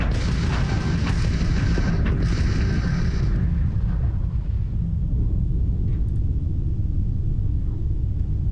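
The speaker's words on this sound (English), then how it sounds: "Opening fire!" Spaceship weapons opening fire in the video game Starfield, a loud, heavy rumbling barrage with booming bursts in the first few seconds that settles into a continuous deep roar, close and dense with no speech.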